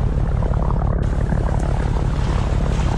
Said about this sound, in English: What's all that engine racket?